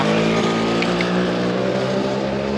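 Vespa scooter engine idling or running close by on a street, a loud, steady motor drone holding through the whole stretch.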